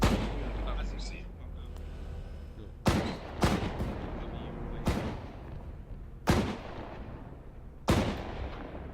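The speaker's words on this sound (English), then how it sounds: "Oh look, shots." Gunfire in the military shooter Arma 3: a series of loud, sharp shots cracks out at irregular intervals, each with a booming tail echoing across a town, against a steady low rumble of background noise.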